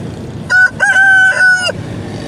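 A single rooster of a fighting-type breed crows loudly and close by at a bird market, one long cock-a-doodle-doo with a rising start and sustained harmonic call, over quiet background.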